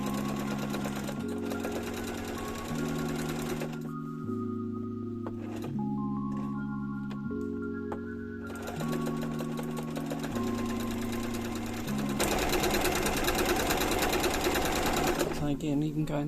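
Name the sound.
sewing machine stitching curtain tape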